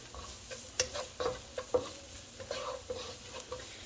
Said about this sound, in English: So we're gonna get this garlic in here.